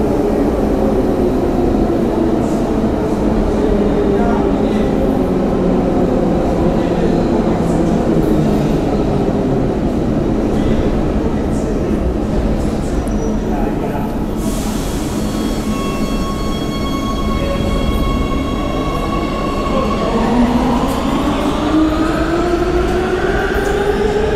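A Warsaw Metro train rumbles steadily through, with rising and falling whines as it slows and pulls into the station at rush hour, heard loudly from nearby.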